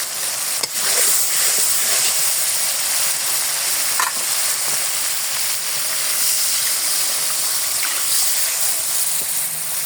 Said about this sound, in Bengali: আলু সেদ্ধ হওয়ার জন্য পানি দিয়ে দেবো